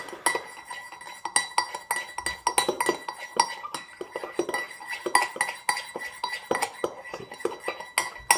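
A metal spoon whisks frothy coffee in a cup, rapidly clinking against the sides in a steady, busy rhythm that changes direction, close and fairly loud throughout with no talking.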